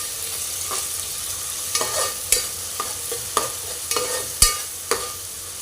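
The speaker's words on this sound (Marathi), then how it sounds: "एकत्र करून परतून घेऊया" Mutton sizzles in a pan with ginger-garlic paste, a constant close frying hiss broken by regular scraping and clinking strokes of a spoon stirring the meat.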